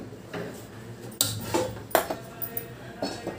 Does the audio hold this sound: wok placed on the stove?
yes